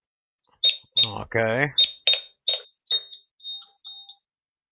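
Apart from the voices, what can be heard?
home security alarm keypad beeping while being turned off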